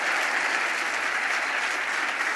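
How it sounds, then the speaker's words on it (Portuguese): A church congregation applauds in a steady, dense wash of clapping that holds even and loud throughout the short stretch, with no speech above it. "A gente precisa aplaudir esse Jesus."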